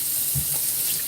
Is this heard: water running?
yes